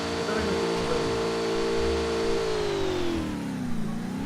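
A motorcycle engine revs hard with a sustained droning tone that holds, then sags and dips in pitch before climbing again, fairly loud and close.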